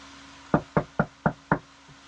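Five crisp knocks on a door, close and evenly spaced about a quarter second apart, with nothing else heard around them.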